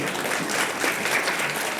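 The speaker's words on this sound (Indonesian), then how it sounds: "kalau paham tepuk tangan yang meriah" Meriah audience applause at an Indonesian workshop center leader's training session, a dense, steady wash of clapping that runs the whole time without a break.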